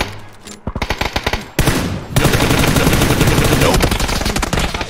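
Gunfire in the battle royale game PUBG: bursts of rapid automatic shots close and loud, a brief pause, then sustained dense firing that runs to the end, no voices over it.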